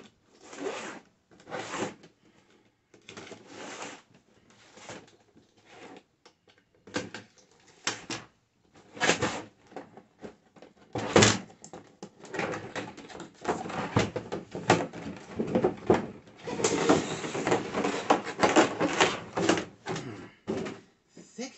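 Heavy plastic packaging for an anime figure being opened by hand: intermittent crinkling, tearing and scraping bursts, close and fairly loud, growing busier and denser toward the end, with no talk.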